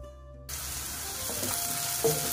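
Chopped vegetables frying in oil in a pan for egg Maggi, a steady close sizzle that swells after a brief quieter start, with faint stirring scrapes and no talk.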